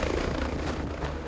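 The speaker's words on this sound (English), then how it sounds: "put it in the helicopter, and we raced out to the island." A medical helicopter in flight carrying a paramedic crew out to an island after a boat accident, its rotor and engine making a steady, dense, loud roar throughout with no break.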